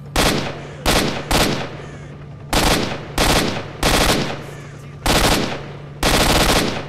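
Gunfire from S.T.A.L.K.E.R. Shadow of Chernobyl: loud, close bursts of automatic fire in roughly eight separate volleys, with steady hum between them.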